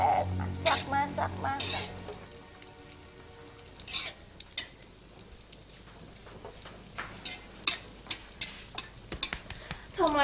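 Food fries in a pan with a soft sizzle under irregular clinks and scrapes of stirring utensils against the pan, close by, with a voice speaking briefly near the start.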